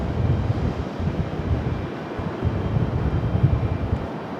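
An Airbus A330 airliner on the move at Raleigh-Durham airport gives a distant, steady broadband roar mixed with wind buffeting the microphone, continuous and unbroken throughout.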